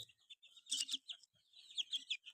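Hill naked-neck chickens on a farm, a quick run of high, bright clucks and chirpy calls in short bursts, fairly close and without talk.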